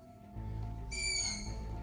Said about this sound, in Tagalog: Ang kuwago papunta siya dito.